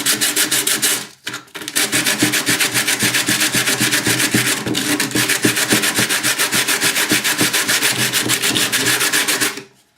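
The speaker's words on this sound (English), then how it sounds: "Rough it up with sandpaper to get a better bond." Sandpaper roughing up a rotor mast part for a better glue bond, loud close rapid back-and-forth scratching strokes in a steady fast rhythm for about nine seconds after a brief pause, with no talking.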